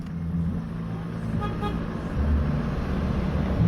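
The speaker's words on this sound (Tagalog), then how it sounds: "busina ka nga. Naganap ang busina?" A short automatic motorcycle horn toot sounds around the middle, over the motorcycle's steady idling engine rumble close by.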